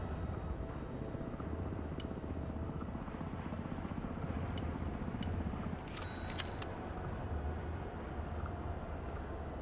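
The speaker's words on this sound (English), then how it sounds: "Speaking of, that would be helicopters." Military helicopters in the video game Broken Arrow thud with a continuous loud rotor chop, steady throughout with brief clicks and battle sounds over the top.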